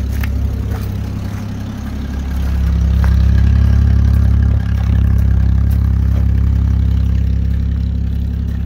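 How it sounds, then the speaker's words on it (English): A 1944 M29 Weasel tracked vehicle idles with its muffler running, a loud, close, low engine rumble that swells slightly midway, with light mechanical clatter on top. "Let's go listen to that muffler."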